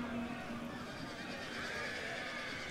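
Cavalry horses neighing amid the din of a Total War Rome 2 battle, whinnies rising over a dense, continuous wash of combat noise, with some talk mixed in.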